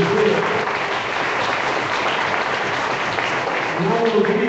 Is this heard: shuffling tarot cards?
no